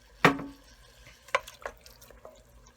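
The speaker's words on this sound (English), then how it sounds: "Put a little bit of water inside, give it a shake, pour it in" Water is sloshed inside an emptied spaghetti sauce jar and poured out into a pot: a sharp splashy burst, then a few softer liquid splashes and drips, close and fairly quiet.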